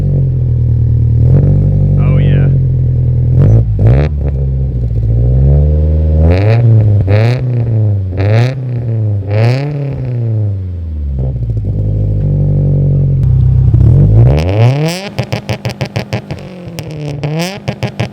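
A Subaru WRX STI engine, track-built, revs repeatedly in sharp rising and falling bursts from idle, loud and close, ending in a rapid popping, crackling stutter.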